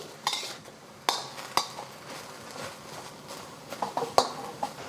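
Mushrooms and chives cooking in oil in a pan, with intermittent clinks and scrapes of a utensil against the pan over a faint sizzle.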